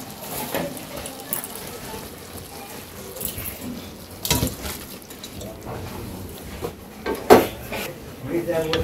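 A cooking pot of kachki fish lifted off a village stove, with metallic clanks and scrapes of pot and utensils, a sharp clatter late on, and faint background activity and voices.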